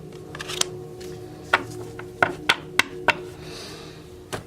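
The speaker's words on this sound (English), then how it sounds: "I'm going to shuffle and I'm going to invoke Ajaaya." Tarot cards being shuffled by hand, a series of crisp snapping riffles and taps at irregular intervals, close and fairly loud in a quiet room.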